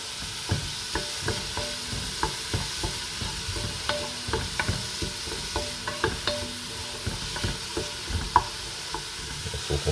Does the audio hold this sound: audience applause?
no